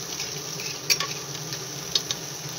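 Tomato and half-cooked potatoes fry in oil in a pan for a fish curry, making a soft continuous sizzle with a couple of sharp clinks from a utensil.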